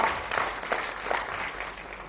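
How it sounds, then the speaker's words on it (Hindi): Audience applause during a stage-hosted workshop in Ranchi, a fairly soft, continuous crowd clapping heard from some distance for about two seconds. "उस एनर्जी के लिए, उस गॉड के लिए जोरदार तालियां मैं चाहूंगा कि आप सब करें।"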